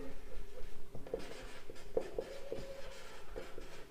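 Marker or chalk writing on a board during a profit and loss maths lesson, with scratchy strokes and a few sharp taps spread through, close and fairly steady, no talk over it.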